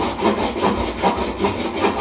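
An orbital sander works across sculpt wood to level it, giving a close, steady abrasive rasp that swells and eases in a regular back-and-forth rhythm.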